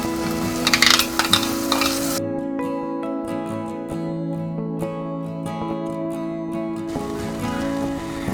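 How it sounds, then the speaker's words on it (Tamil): Brinjal (eggplant) masala fries in a pan, giving a steady sizzle that swells loudly at the start and end, with tonal background music running underneath. "இப்போ மசாலாவோட பச்சை வாசனைலாம் போட்டோம்."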